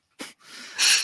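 A wheezy, snorting breath puffs close into a microphone during a football preview chat, two short bursts of air with a louder hiss at the end.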